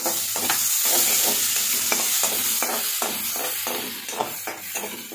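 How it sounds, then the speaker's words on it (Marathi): Onion and tomato sautéing in a pan for masale bhat, a constant close sizzle overlaid with rhythmic scraping stirs, roughly one or two per second. "कांदा आणि टोमॅटो व्यवस्थित असा परतून घेऊयात आपण।"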